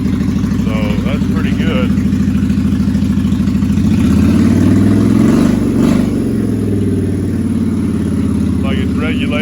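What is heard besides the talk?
Honda VT1100 Aero motorcycle engine at high idle on choke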